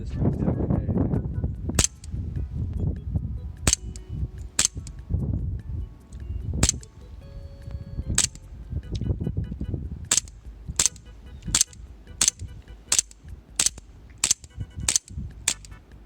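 An Elite Force 1911 CO2 gas blowback airsoft pistol fires a series of sharp, snappy cracks, spaced at first and then coming in a quicker string, with some low handling noise and rustle between shots.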